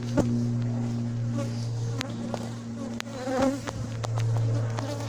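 Honey bees buzz steadily and close up around a hive as a beekeeper smokes them, a continuous droning hum with occasional sharp clicks and knocks.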